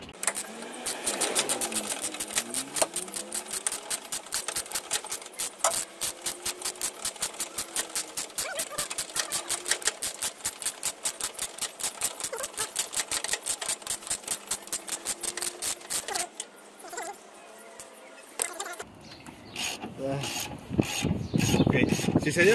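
A ratchet on a long extension loosens 17 mm engine mount bolts on a Honda, giving a long run of fast, regular clicks up close, then brief clanks and handling noise near the end.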